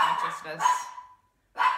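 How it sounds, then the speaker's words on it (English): Several sharp, close dog barks come in quick bursts, then a short silence before one more bark. "sorry, the dogs are barking"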